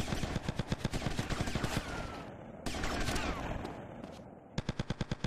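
Rapid automatic gunfire in the video game Grand Theft Auto: Vice City, with tight bursts of close, loud shots, a dense stretch of continuous firing in the middle and a final quick burst.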